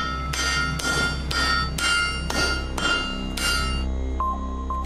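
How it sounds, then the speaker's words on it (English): A hammer strikes hot iron to forge chain links in the Roman manner, six sharp ringing metallic blows at a steady pace, close and loud, followed by a lighter tap and lingering ring over a low hum. "one Roman method we did try was forging the iron links, which held the wheel chain together"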